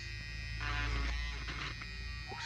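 A cheap electric beard and mustache trimmer runs with a steady low buzzing hum, close by and fairly quiet, holding constant for a couple of seconds.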